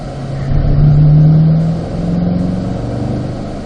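A car accelerates hard out of a corner in third gear on the Spring Mountain racetrack during a performance driving school session, its engine note rising steadily and loud for a few seconds, then easing.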